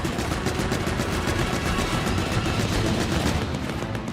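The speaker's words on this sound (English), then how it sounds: "he immediately tries to shoot at me" An enemy in the video game Pikmin 4 shoots at the player with steady, rapid fire. Loud crackling bursts continue without a break the whole time, and no voices are heard.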